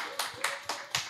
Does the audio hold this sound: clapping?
yes